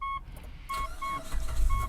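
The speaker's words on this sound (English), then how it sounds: "So let's start it up." A 2008 Mitsubishi Pajero (Shogun) engine starts. Repeated dashboard warning chimes beep first, then the engine cranks and catches at the end with a loud, low rumble.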